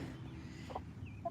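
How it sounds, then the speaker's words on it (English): A hen clucking softly during feeding, two short faint calls over low background noise, close by. "I have a chicken pecking at me"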